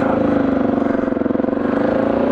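An off-road motorbike engine, a Honda-type Baja bike ridden hard, holds a steady loud rev throughout, its rough pulsing drone close and continuous with no voices over it.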